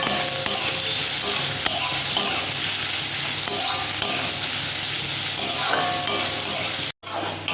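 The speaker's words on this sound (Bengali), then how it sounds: "পেঁয়াজটাকে আগে ভালো করে ভেজে নেব।" Onion frying in a pan, a constant crackling sizzle with spoon scrapes and stirring strokes near at hand, steady and fairly loud, briefly cutting out near the end before resuming.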